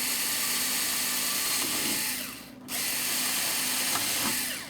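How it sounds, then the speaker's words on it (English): Small electric drill boring a hole during construction of an Edge 540 model airplane, a loud steady whine that dips briefly midway as the trigger eases, then resumes and runs on. "Use my little electric drill here on that."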